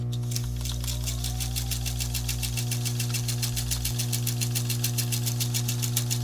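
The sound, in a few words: sewing machine stitching star quilt block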